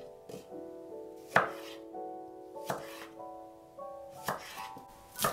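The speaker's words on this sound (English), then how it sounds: "cut 1/3 of cucumber in sticks" A knife cuts a cucumber into sticks on a board, making five or six crisp, evenly spaced chops, close and clear, with quiet pauses between strokes and no voices.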